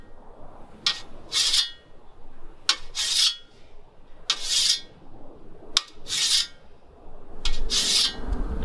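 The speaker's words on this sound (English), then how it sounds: "So just done the weekly scythe sharpening" A scythe blade being sharpened by hand, with repeated rasping strokes in short bursts, several quick passes with brief pauses between them, close and fairly loud, with no talking.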